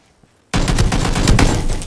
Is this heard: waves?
no